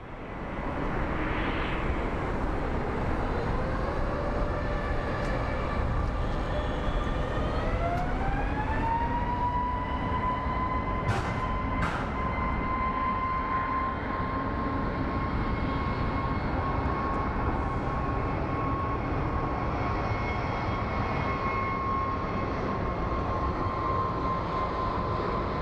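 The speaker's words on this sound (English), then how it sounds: "There's our A321 that's taken off" Airbus A321 airliner taking off at Phoenix Sky Harbor: a long, steady engine roar with a prominent tonal whine that rises in pitch partway through, then holds steady and loud.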